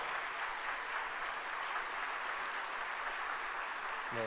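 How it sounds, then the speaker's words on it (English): A church congregation applauds to welcome a guest speaker at a Sunday evening service, a steady, even wash of clapping throughout that ends with a brief voice. "So let's welcome him with a round of applause."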